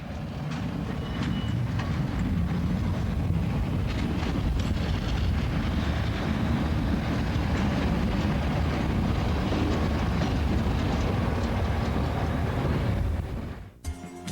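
A first-generation EMD diesel locomotive engine chants steadily, a loud continuous low rumble with wind buffeting the microphone, running unbroken for over thirteen seconds before cutting off abruptly.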